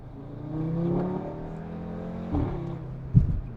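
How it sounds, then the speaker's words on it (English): An Audi RS3 engine rises in a fairly quiet, steady hum as the car accelerates hard from inside the cabin, with a brief bump in the sound near the end. "we're just gonna test the acceleration a bit here"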